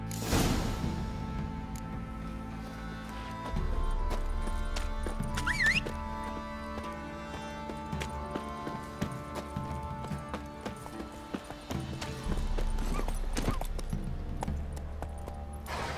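A horse gallops in The Witcher 3 video game, its hoofbeats a continuous rhythmic clip-clop under ambient game sound and music, with no talking.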